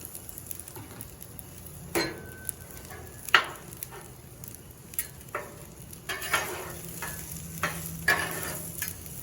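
Sliced red pepper and yellow onion sizzle in avocado oil on a Blackstone griddle, a soft continuous fry punctuated by spatula scrapes and metallic clinks as the vegetables are tossed, close but fairly quiet.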